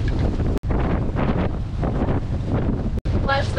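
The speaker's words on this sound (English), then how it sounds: "Wind's picking up." Strong wind buffets the microphone in a continuous roaring rush aboard a single-handed sailboat between squalls, with brief breaks and a voice faintly mixed in.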